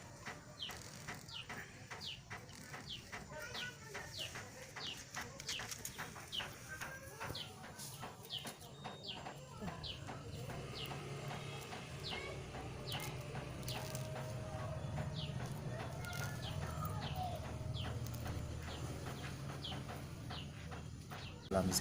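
A newly bought white-rumped shama calls in repeated sharp chirps and whistles, fairly close, over a steady background hum and other bird and farmyard noise.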